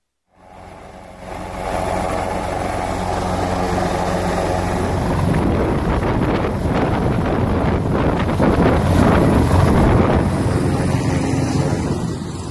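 Indonesian Air Force Caracal military helicopter landing on a hillside, its loud continuous rotor and turbine roar rising after a brief quiet start and staying steady and close throughout with wind buffeting.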